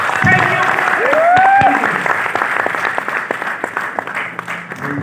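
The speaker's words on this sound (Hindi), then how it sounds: "पीछे वाले लोग ताली में क्या बात है, इतना जोर से कर रहे हैं।" An indoor audience at a direct selling event claps in a dense, sustained round of applause, while a loud voice speaks over the clapping.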